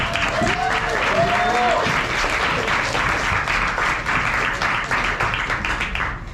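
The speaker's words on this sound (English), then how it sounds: "So please give her a round of applause." An audience at a Chicago art night gives a loud, dense round of applause, continuous clapping filling the room throughout with a few voices mixed in.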